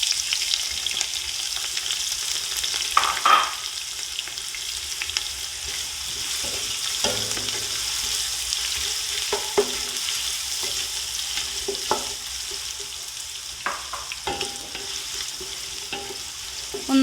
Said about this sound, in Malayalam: ഇനി നമുക്ക് അരിഞ്ഞു വെച്ചിരിക്കുന്ന സവോള ചേർത്ത് കൊടുക്കാം.